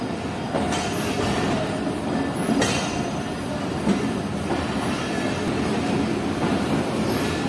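The 40 Down Jaffer Express pulls out of Sukkur railway station with a steady, close rumble of rolling stock, faint wheel clatter and light squeals running throughout, and no voices.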